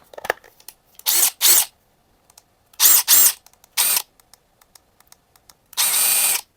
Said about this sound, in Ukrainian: Так, наш гайковертик 921 Такий малесенький, маленький.